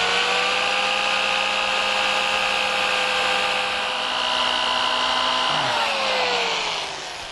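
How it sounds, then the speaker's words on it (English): A power drill bores through a steel go-kart sprocket clamped against wood, whining steadily and loud for several seconds, then dropping in pitch and tapering off as the bit slows near the end. "we're going to drill out the top hole"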